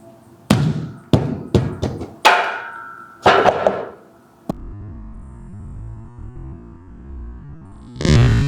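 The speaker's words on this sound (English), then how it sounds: "Third one on the list, we have the commercial urethane bumper plate." A commercial urethane bumper weight plate is dropped onto a gym floor, hitting with a sharp impact and then bouncing in several quick rattling hits that settle within a few seconds. A later thud follows.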